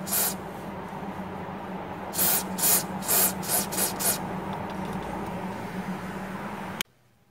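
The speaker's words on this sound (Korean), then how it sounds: "기왕 점검할 때 실리콘 스프레이 한번더 뿌려주고요" Silicone spray aimed at the rubber bushings of a Mercedes-Benz sway bar link during a check, giving several short, close hissing bursts over steady background hum before the sound cuts off abruptly.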